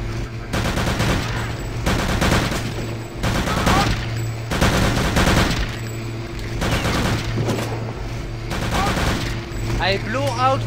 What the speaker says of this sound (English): You can't hit me with a stupid sniper rifle, but I can hit you with a machine gun?